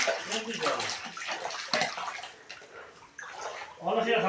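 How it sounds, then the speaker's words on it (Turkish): Rushing, splashing water flooding the inside of a flooded house, steady and close, with a voice speaking over it at times. "Evin içi olduğu gibi su."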